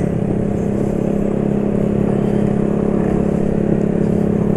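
A Yamaha NMAX scooter rides over a rough road, its engine holding a steady close drone while light rattles and clatter run continuously over it.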